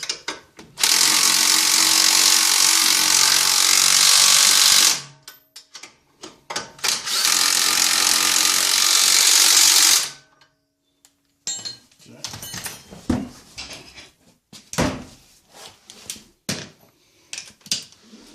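A power tool tightens bolts on the front axle of a 1996-2004 Nissan Pathfinder, two long continuous whirring bursts of about four seconds each, followed by scattered clanks and clicks of handling, with someone talking nearby.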